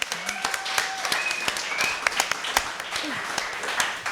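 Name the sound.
audience applause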